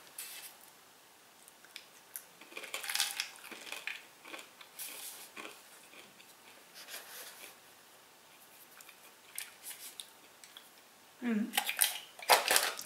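Crisp crunching and snapping bites of a crunchy roasted coconut cocoa snack, in short irregular bursts close up, with louder crunches near the end and quiet gaps between.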